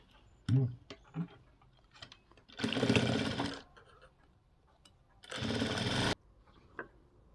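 A sewing machine runs a flat seam along the band of a plain blouse in two distinct bursts of steady stitching, each about a second long, separated by quieter handling sounds and small clicks.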